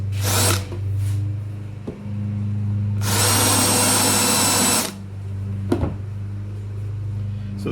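A power drill boring a screw hole in an aluminum gun case bottom panel, a loud whining burst of about two seconds between quieter handling clicks over a low steady hum, close up with no speech.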